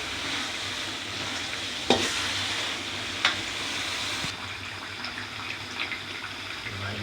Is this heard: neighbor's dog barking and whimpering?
no